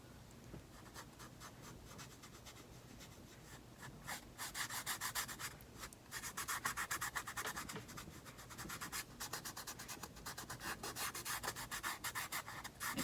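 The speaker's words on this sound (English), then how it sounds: "I went and got some silver leaf rub and buff. I'll put that on there and see how that looks." Silver leaf rub and buff paste being rubbed onto a wooden piece for a Christmas craft project, a steady close scratchy rubbing that grows louder and more rhythmic after a few seconds, with no talking.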